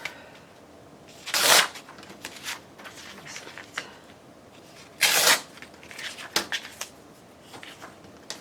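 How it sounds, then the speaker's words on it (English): Fabric trim being torn by hand for a sewing project, two loud close ripping bursts a few seconds apart, each followed by softer rustling and handling, with no talking. "I'm just going to go ahead and tear it like here and up here"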